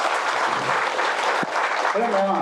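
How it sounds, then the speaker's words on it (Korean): Applause from an audience at a sisterhood ceremony between Buddhist temples, a dense burst of clapping that carries through the moment, with a voice briefly speaking near the end. "다시 한번 큰 박수 부탁드립니다."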